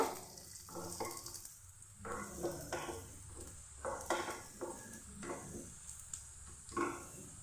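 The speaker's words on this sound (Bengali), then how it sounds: "একটা শুকনো লঙ্কাটাও তেলে দিয়ে ভেজে নেব" A dried red chili frying in hot oil for a Bengali flat bean bhorta, with a steady soft sizzle broken by intermittent spoon stirring and scraping against the pan.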